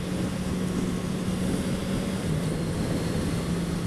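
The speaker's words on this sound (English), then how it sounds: "It's got lovely engine note and lovely induction sound to it." Kawasaki Z1000 motorcycle engine running steadily on the road, a continuous loud drone with a low engine hum and wind roar, constant throughout with no talking.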